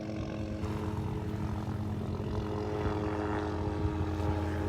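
A mosquito control helicopter passes over a beach, a steady droning rotor and engine hum that grows slightly louder as it approaches overhead, with faint surf-like background wash.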